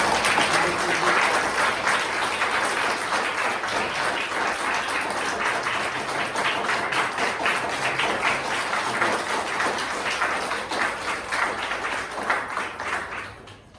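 Sustained audience applause welcomes actor Naseeruddin Shah on stage at a Sahir Ludhianvi birth anniversary event, a dense steady round of many hands clapping that fades out at the end.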